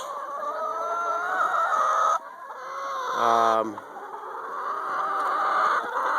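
Chickens, 2.5-year-old hens eating fermented grains, clucking and squawking close by in a busy, agitated flock, with one louder harsh call rising briefly in the middle.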